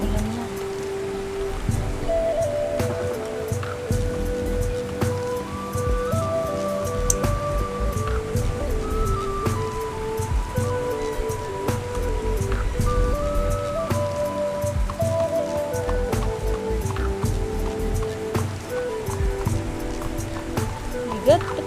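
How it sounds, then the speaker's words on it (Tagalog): Steady rain in Red Dead Redemption 2 patters on surfaces throughout, with music tones drifting over it and scattered sharp drips and ticks. "Ako, umuulan na."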